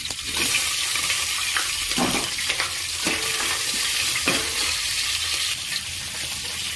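Sliced onion and green chilies fry in hot oil, a loud, dense, continuous sizzle heard up close, with a few spoon scrapes and stirs cutting through the crackle.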